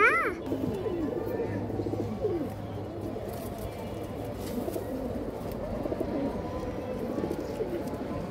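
Pet pigeons, white-feathered show birds, coo in low repeated throaty calls close by, with steady background hum and faint ambient noise around them.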